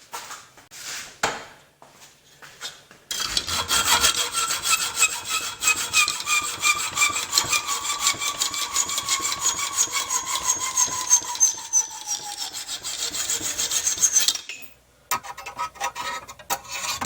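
Hand-sawing a bathroom faucet drain part to shorten it, with a steady, rasping back-and-forth stroke running close and loud for about eleven seconds before stopping.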